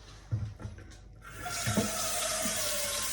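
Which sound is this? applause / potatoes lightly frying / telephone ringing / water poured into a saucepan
water poured into a saucepan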